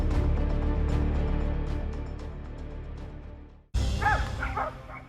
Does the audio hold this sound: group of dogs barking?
yes